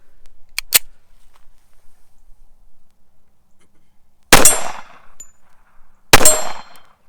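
Four sharp, loud shots from a TISAS 1911A1 pistol on a shooting range, fired as two quick pairs, with a gap between the first pair and the second.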